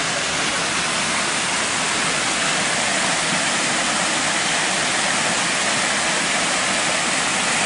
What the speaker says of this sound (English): And a nice big natural waterfall with complete filtration.